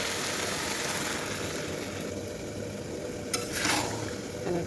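Chopped greens go into a pan of boiled potatoes frying in oil. A steady close sizzle runs throughout, with a brief louder burst of hiss and stirring near the end and no voices.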